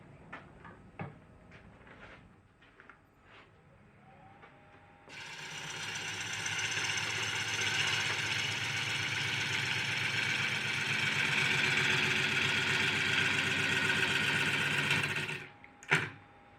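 Wood lathe taking heavy roughing cuts on a camphor laurel bowl blank mounted on a faceplate, belt on the largest pulley; after a few light taps, a loud steady motor drone with continuous cutting noise runs for about ten seconds, then stops abruptly.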